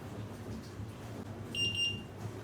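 An oven timer beeps in a short, faint burst of high tones after a cornmeal cake with guava paste finishes baking, against quiet room noise.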